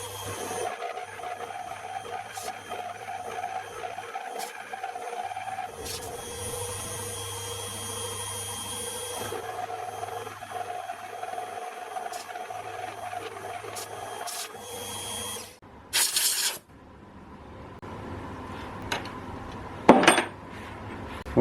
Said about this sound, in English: I'm going to do a climb cut down this side and back up this side at a depth of 12 millimeters